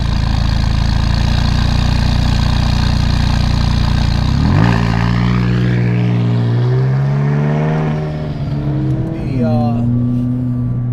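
A McLaren 570S on a race track roars at high revs, then drops and climbs through gear changes with rising and falling engine pitch. Loud and close, with speech picked up under the engine.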